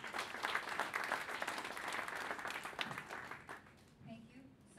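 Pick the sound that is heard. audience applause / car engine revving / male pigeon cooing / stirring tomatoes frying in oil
audience applause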